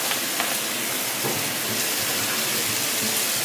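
Diced red tomato frying in a pan with garlic and onion for zucchini with cheese, a steady broadband sizzle and crackle that stays fairly loud and even throughout, with no voices.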